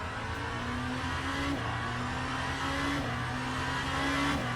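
Genesis hypercar in the racing game Le Mans Ultimate, a steady engine drone rising in pitch through repeated gear pulls, with no talk.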